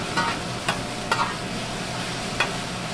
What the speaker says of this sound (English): Want to get the onions cooked.